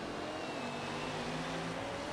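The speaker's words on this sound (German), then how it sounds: "Beschleunigen kann der Wagen auf jeden Fall nicht." A car engine in the racing game Forza Horizon 3 drones at a steady, fairly loud pitch while accelerating, with no talking.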